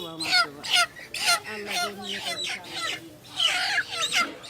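Chickens cluck and squawk in short, busy bursts at a market stall where a chicken is being sold, with people talking close by.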